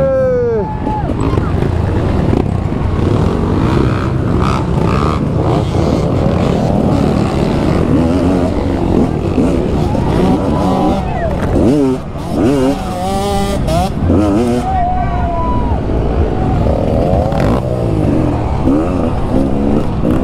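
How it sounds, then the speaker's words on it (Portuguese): Dirt bikes at the Bananalama 2022 trail riders' gathering rev and roar past spectators one after another, engines rising and falling loudly nearby, with onlookers shouting and talking over the noise. "Pra olhar as motos passar."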